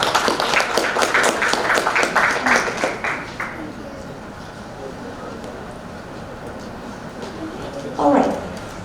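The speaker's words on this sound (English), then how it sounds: "Everyone, please warm applause for group 5." An audience at a youth festival business idea competition applauds group 5, a burst of many hands clapping that fades out after a few seconds, followed by quiet room tone and a brief voice near the end.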